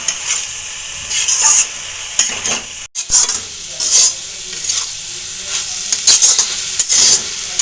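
Water spinach (kalmi greens) frying with garlic in a pan, a loud, close sizzle and hiss with intermittent stirring scrapes and a brief metallic knock partway through.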